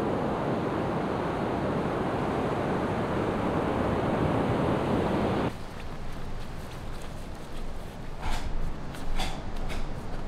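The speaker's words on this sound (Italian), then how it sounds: "La spiaggia è carina, ma piena di plastica." Waves wash onto a beach strewn with plastic. A loud, dense rush of surf and wind fills the first half, then drops to a softer wash with a few sharper splashes.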